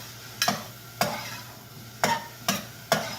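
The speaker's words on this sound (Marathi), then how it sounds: "टॅमेटो टाकत आहे आणि याला एकच मिनटं तुम्हाला परतवायचंय आहे" Five sharp scraping strokes of a spatula against a pan as tomatoes are sautéed for kohlrabi curry, spaced unevenly over a soft background hum, no voices.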